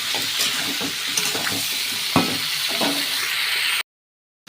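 Mixed vegetables fry in fish oil, sizzling steadily, with occasional scraping strokes of a spatula stirring the pan, close by; the sound cuts off near the end.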